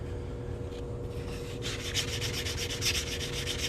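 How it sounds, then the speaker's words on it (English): Close, rhythmic scraping of sandpaper on the edge of a 1965 quarter being made into a coin ring, strokes growing quicker and brighter partway through, with a low hum underneath. "I'd probably do a little more sanding"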